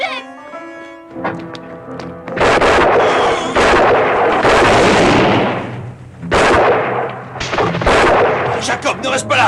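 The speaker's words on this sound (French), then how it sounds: "Et ça, c'est le son d'un Deringer?" Gunfire in a Western film scene, with loud close bursts and booms in clustered volleys and brief gaps, mixed with music and a rumbling din.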